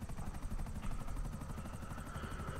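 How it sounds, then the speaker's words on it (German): Helicopter in the GTA V Online video game, a continuous rhythmic rotor chop with engine hum, steady and fairly quiet throughout. "Das ist noch ein dritter Helikopter, wie schon wieder gespawnt."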